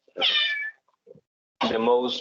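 A pet cat gives two clear, close meows, a shorter one and then a longer, lower one, with a brief soft sound between them.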